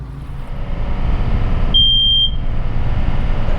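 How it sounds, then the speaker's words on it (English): A smoke detector alarm on a boat anchored at Benjamin Islands gives one sustained, piercing high tone lasting about half a second over a steady background rumble. "we think a smoke detector or something just went off"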